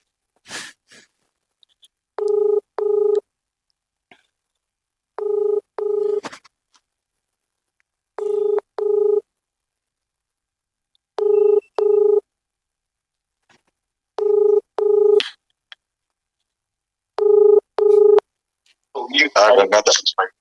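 A telephone number dialed to place a call, with six evenly spaced pairs of short touch-tone beeps separated by silence, clear and close, followed by a brief burst of noise at the end.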